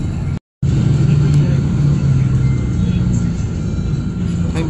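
Road traffic heard from inside a moving bus on EDSA, a loud close engine rumble with a steady low drone, a brief dropout near the start, and people talking over it.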